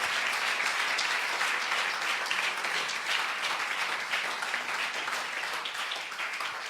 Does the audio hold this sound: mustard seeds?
no